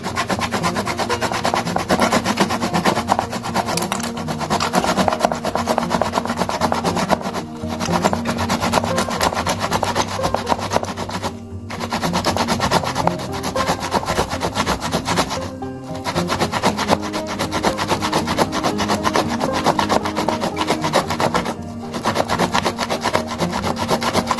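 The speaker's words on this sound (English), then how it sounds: "with a grate or shredder, shred the tomato like so" A tomato rubbed back and forth on a grater or shredder, steady rasping strokes in a continuous rhythm with a few brief pauses, close and fairly loud, with no voices.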